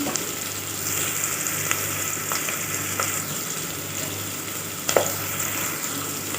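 Tomatoes frying in a pan with tempering seeds for a mango pickle, giving a steady close sizzle throughout, broken by a few soft clicks and one sharper clatter near the end, with no talking.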